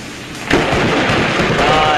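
A lightning strike near a road during a storm sets off a sudden, loud crack of thunder about half a second in, followed by a heavy, rolling rumble that carries on to the end.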